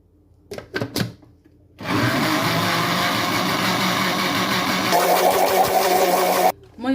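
A Moulinex blender whirs steadily for about five seconds, mixing a cake batter of eggs, sugar, oil and milk, with a brief bump in pitch partway through before it cuts off; short sounds come just before it starts.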